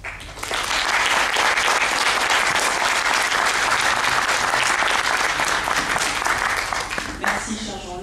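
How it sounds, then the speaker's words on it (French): Audience applause fills the room after an art lecture on Art Deco, steady and loud clapping from a crowd lasting several seconds before fading near the end. "Donc l'applaudissement."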